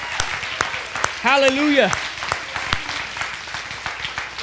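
A church congregation claps in a steady patter of applause, with a voice calling out over it briefly partway through.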